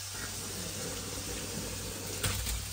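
Cooked pasta is drained at a kitchen sink, water pouring in a steady, close, hissing rush that continues throughout, with a brief splashy surge near the end and no talking.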